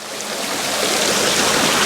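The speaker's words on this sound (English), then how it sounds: "So there's a little mystery waterfall there." A small waterfall fed by a pipe spills into a garden pond, a steady close rushing splash of water that swells slightly and holds loud and even, with no voices.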